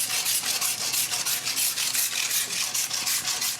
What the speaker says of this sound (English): the first tool at hand will be the big handsaw